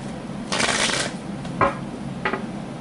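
Cards riffle in a quick shuffle, followed by two shorter riffling bursts, close and moderately loud with no talking.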